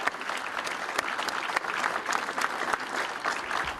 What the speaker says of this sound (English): can I please give a round of applause to this very gallant De Hamlet side